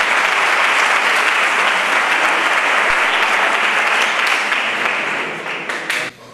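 Loud, dense applause from an audience at a school's 20th anniversary gala in Spain, sustained for several seconds before tapering off near the end, with no talk over it.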